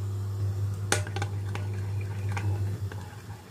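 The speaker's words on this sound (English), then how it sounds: "I'm just going to mix this up" Crushed onion, chillies and coriander stirred together in a bowl, giving soft wet squelches and a few sharp clicks of utensil against the bowl, close up over a steady low hum, with no talk.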